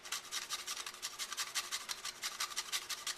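Fresh nutmeg scraped over a grater in a kitchen, a quick series of dry, raspy strokes repeating steadily and fairly faint, with no talking.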